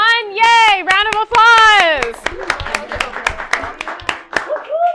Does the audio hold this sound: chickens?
no